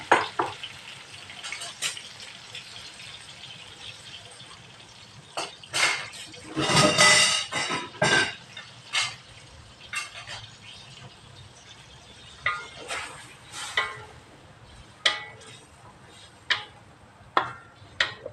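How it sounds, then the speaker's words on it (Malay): A blended paste of three lemongrass stalks and other ground spices sizzles as it is sautéed in a pan for a milkfish botok-botok dish, with intermittent frying crackle, spoon scrapes and a louder burst of sizzling midway. "kita tumis ni sampai garing dan naik bau"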